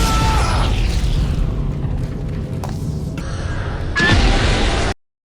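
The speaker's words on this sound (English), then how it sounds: "If you decide to stick around, the soldiers will start chucking grenades." Soldiers' grenades exploding in the Dead Space video game, heavy rumbling booms with a sharp crack partway through and a louder blast near the end before sudden silence.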